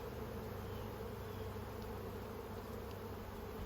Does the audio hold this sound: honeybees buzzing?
yes